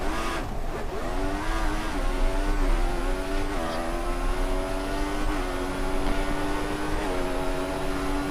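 Race car engine in the F1 2014 video game, a continuous high revving whine climbing through gears with brief shift dips, loud and steady.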